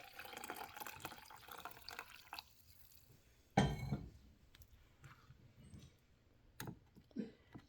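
Hot water heated on a stove is poured into a coffee press over coffee grounds, making a soft, close splash and trickle against faint background noise.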